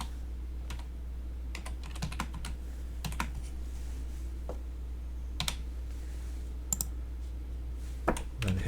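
Keys clatter on a computer keyboard as a name is typed into a text box in Autodesk Inventor, quick irregular bursts of close, crisp taps with a few louder clicks.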